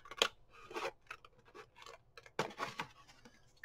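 Scissors snip through a paper bag in a quiet room, a few crisp, crackling cuts in irregular bursts with pauses between, close and fairly soft.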